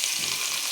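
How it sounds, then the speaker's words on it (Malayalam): Chopped ginger, garlic and onion sauté in coconut oil for a soya fry, a short burst of even, close sizzling with a soft stirring texture and no voices. "ഇഞ്ചിയും വെളുത്തുള്ളിയും സവോളയൊക്കെ അരിഞ്ഞിട്ട് വഴറ്റുകയാണ് ചെയ്യുന്നത്"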